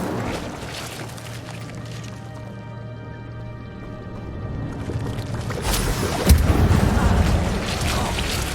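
A fire spell cast in the Hogwarts Legacy video game lands as a sudden whooshing burst with a heavy thump partway through. It follows a quieter stretch of low, steady game ambience.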